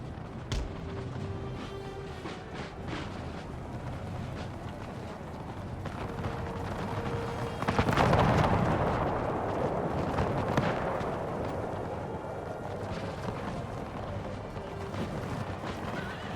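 Massed musket gunfire and artillery from an Empire Total War battle, a dense continuous rumble of distant shots with a heavier swelling volley partway through.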